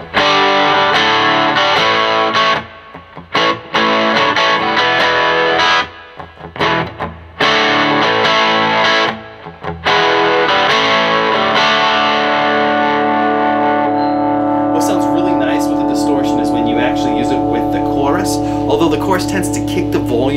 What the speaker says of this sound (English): If you crank up the distortion.